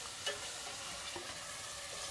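Onion and sweet pepper sautéing in a pan for a Dominican salt cod and eggplant dish, a faint steady sizzle with a few soft stirring scrapes and no voices.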